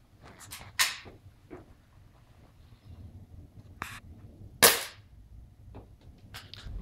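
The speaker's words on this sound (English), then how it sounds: "We're using a Walther Boomerex BB gun" Several sharp cracks from a Walther CP99 Compact BB pistol firing at an iPhone 4 with a Tech Armor screen protector, loud isolated shots spaced irregularly with small impact clicks between.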